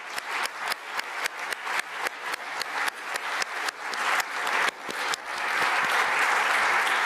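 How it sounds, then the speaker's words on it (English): Audience applause for the German Federal Chancellor at the Munich Security Conference, starting as separate swelling bursts of clapping and building into steady, dense, sustained applause from a large crowd. "Let's offer a round of applause to the Chancellor."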